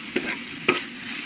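An egg fries in a pan with a steady soft sizzle. Two quick scraping stirs of a utensil break through it, and no one speaks.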